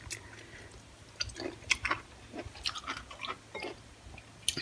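Crunchy water-pickled white radish with pork belly being chewed close up, with a series of sharp, irregular crisp crunches and quieter wet mouth sounds in between.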